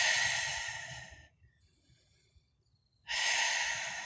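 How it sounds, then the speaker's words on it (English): Ocean-like yoga breathing, drawn in through the nose and released through the mouth with a hiss at the back of the throat: one long breath, a quiet pause, then the next breath, close and alone. "focusing on my breathing in through the nose, out through the mouth, like ocean waves, making the sound on the back of your throat"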